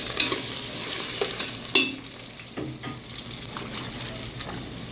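A ladle scrapes and stirs through ground masala and chunks of dried fish in a pan, with uneven knocks and scrapes over a soft background sizzle.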